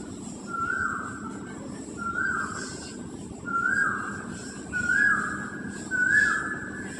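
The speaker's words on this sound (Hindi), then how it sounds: "कोयल बोल रहा है, सुनते रहो आप लोग।" Asian koel calling near a home, about five rising whistled notes repeated at a steady pace over a low background hum, fairly clear but at some distance.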